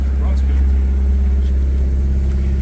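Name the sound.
car engine idling after flashing a new tune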